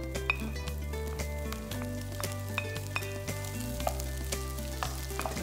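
Vegetables frying in sesame oil in a frying pan, a steady close sizzle with scattered ticks and crackles running throughout, with a low hum beneath and no talk.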